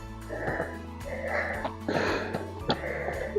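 Heavy, rasping breaths from someone hiking uphill, a steady panting rhythm of in and out breaths close to the microphone, with no talking.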